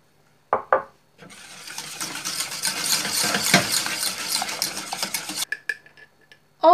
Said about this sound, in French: Hop, un jaune, on mélange.